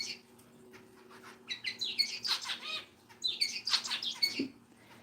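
Zebra finches, including a white jumbo zebra finch and a grey finch, sing indoors as pets: bursts of high, buzzy chirps and tweets come in two dense phrases over a low steady hum, with no talking.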